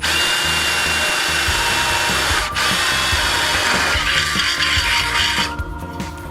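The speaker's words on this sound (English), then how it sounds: "Something worth noting when you are drilling into tubing, pretty much any kind of tubing." Close, loud power drilling into the aluminum tubing of a sailboat tower for a solar arch, a continuous grinding whine that dips briefly midway and eases off near the end.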